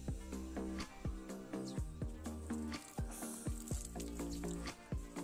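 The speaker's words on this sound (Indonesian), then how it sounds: "Nah, habis itu kita siram ya." Water poured onto packed, reused soil in a three-tier strawberry pot, a soft fizzing and crackling soak with small repeated pops, quiet and close.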